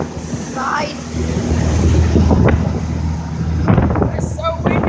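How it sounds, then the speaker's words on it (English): Strong wind roars across the microphone on the deck of a moving boat, a constant heavy rumble with water noise beneath, while a person talks over it. "It's so windy."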